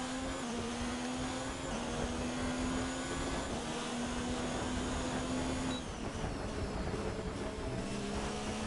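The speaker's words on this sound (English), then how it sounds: "Feels like something's scrubbing along the floor" A Formula 1 car in the F1 2019 video game races around Bahrain with a steady, close, dense engine roar and a whining tone that shifts in pitch, with no separate scraping noise standing out.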